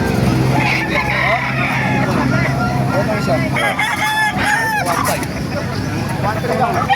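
Chickens and gamecock roosters cluck and crow amid a bustling outdoor chicken market in Calumpit, Bulacan, with people talking loudly nearby throughout.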